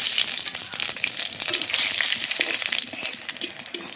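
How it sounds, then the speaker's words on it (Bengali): Cumin, bay leaf and dried chili crackle and sizzle steadily in hot oil, a dense continuous frying hiss with sharp pops throughout, close by. "তো এখন ফোড়নের জন্য জিরে, তেজপাতা, শুকনো লঙ্কা"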